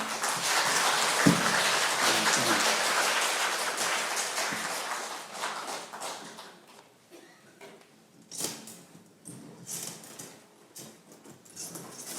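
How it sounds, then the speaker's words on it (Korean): An audience at a Korean Franciscan spirituality academic conference claps in a dense, pattering round of applause that holds strong for several seconds, then fades into scattered claps and small shuffling noises. "윤지영 신부님 박수로 맞이하겠습니다."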